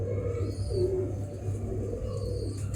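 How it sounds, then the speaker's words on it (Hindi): Jacobin-type pigeon cooing softly nearby, with low, soft coos over a faint steady background hum and no voices. "ये टैडी नहीं है कबूतर"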